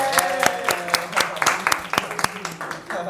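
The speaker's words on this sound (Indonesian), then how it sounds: "Tepuk tangannya dong untuk kelompok 2." A small classroom group claps for presenting group 2, giving scattered, uneven hand claps over about three seconds with a faint tonal murmur in the background.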